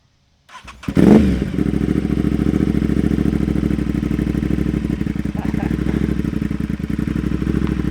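A motorcycle fitted with Brembo brakes starts with a thump, then its engine settles into a loud, steady, close throbbing run with slight revving, continuous for several seconds.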